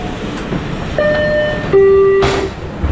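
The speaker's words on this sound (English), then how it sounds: "The monorail." A Disney World monorail train at the station, heard as a loud steady rumble with sustained electric whine tones and a sharp rise in noise near the end, with no voices.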